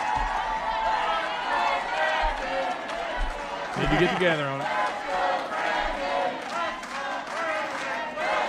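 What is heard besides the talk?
crowd chanting and cheering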